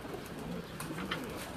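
Pigeons cooing on a rooftop, soft low rolling coos repeating steadily over faint background noise, close but quiet, with no voices.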